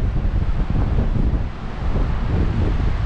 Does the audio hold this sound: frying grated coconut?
no